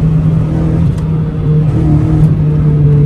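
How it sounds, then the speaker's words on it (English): A Mazda 323 engine screaming flat out at the top of second gear, a loud, steady, droning buzz held at high revs without climbing, close and continuous. "Oh, what a note. What a funny note this car makes."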